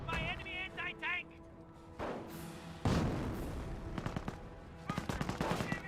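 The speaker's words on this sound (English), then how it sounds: "We're being hit by enemy anti-tank" Enemy anti-tank fire rings out in a Company of Heroes battle: sharp gun blasts and heavy thuds land in clusters, with a quick run of rapid shots near the end, mixed with in-game voice callouts.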